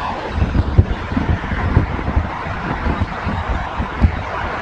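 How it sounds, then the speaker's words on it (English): An HY wind turbine starting up in low wind, heard as a steady whooshing rush of air with soft low buffeting pulses, close to the microphone and with no talk. "I wanted to show you the low wind startup of this turbine."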